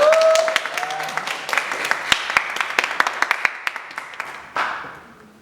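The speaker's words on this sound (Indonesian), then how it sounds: "Boleh tepuk tangan." Audience applause at a student organization Q&A session, a spread of individual claps with sharper close hand claps standing out, swelling briefly near the end before fading.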